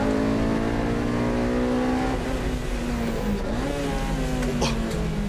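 A tuned Honda VTEC car engine, run with an HKS F-CON V Pro computer, revs hard and loud up close in a sustained, rising howl that shifts pitch partway through, with no break in the roar.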